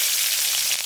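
Green chilies frying in hot oil in a pan, a loud close sizzle holding steady with fine crackle, no voices.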